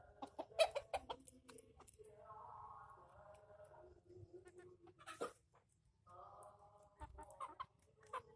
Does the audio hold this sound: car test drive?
no